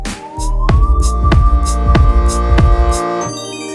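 Dual hub or belt drive motors on a DIY electric skateboard with 100mm wheels, whining up in pitch under throttle and holding a loud, steady electric tone with pulsing throbs, close by and without voices.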